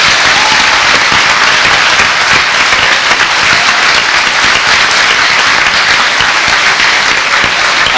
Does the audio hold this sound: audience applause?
yes